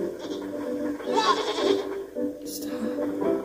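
Goat in the video game Blanc bleating several times close by, its calls tangled with a person talking over them.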